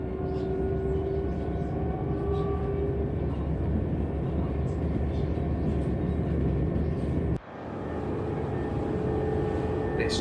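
Interior of an empty train heading toward Purfleet, London, with a steady low rumble and hum of the carriage running throughout, briefly dipping near the end before resuming.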